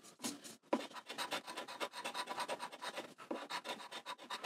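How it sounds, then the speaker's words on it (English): A coin scratches a Georgia Lottery scratch-off ticket with steady, rapid rasping strokes that run close and continuous with no pauses, and no voices are heard. "This ticket has become hard to scratch"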